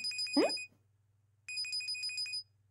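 A telephone rings with a bright electronic tone in two short bursts separated by a pause, clear and close in a quiet room, with a low steady hum underneath.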